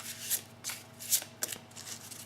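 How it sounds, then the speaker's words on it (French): Oracle cards being shuffled before one is drawn, a series of soft, quick riffling bursts in an uneven rhythm, close and quiet against a faint background hum. "Alors ensuite, on va tirer une carte de murmure de guérison."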